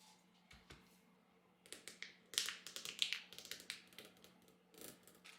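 Crinkly plastic packaging of sliced fresh mozzarella cheese being pulled open: close, crisp taps and crackles, sparse at first, then a dense burst of rustling that thins out, with a steady low hum beneath.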